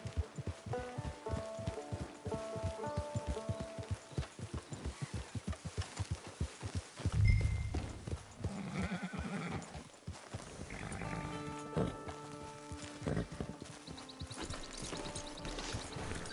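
A horse in the Red Dead Online video game walks with a steady clip-clop of hooves and gives a neigh midway, set among ambient game sounds and background music.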